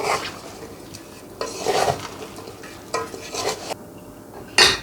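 Mango pickle is mixed with spices in a container, with irregular wet scraping and stirring strokes in short bursts and a sharper knock near the end, close by and without talking.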